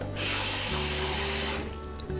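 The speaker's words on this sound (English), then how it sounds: "What you do is you put that in a pan and with a little water," Water runs from a tap into a cooking pan in a home kitchen, a steady rushing gush that cuts off near the end.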